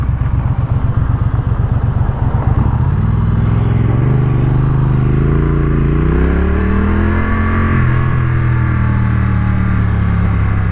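Triumph Street Twin two-cylinder motorcycle pulling in first gear at low revs: a loud, close, throbbing twin-cylinder engine note that rises steadily in pitch, eases, then holds, continuous and with no voices.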